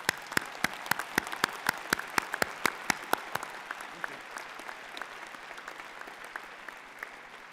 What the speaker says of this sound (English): I think your family and friends deserve a huge applause.